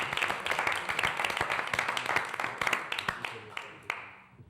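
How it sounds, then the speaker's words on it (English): Scattered applause in a city council chamber in Fayetteville, Arkansas, with individual hand claps standing out, thinning toward the end and fading into quiet after about four seconds. "That's the only time I allowed any applause"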